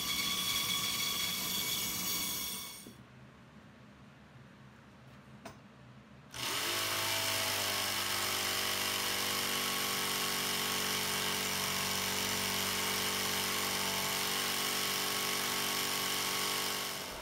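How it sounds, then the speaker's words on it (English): Oscillating belt sander in a small woodworking shop smoothing jagged jigsaw cuts, a loud steady motor whine with a grinding rasp; it cuts out briefly to quiet, then starts up again and runs continuously. "This oscillating belt sander comes in really handy for shaping and smoothing out jagged jigsaw cuts."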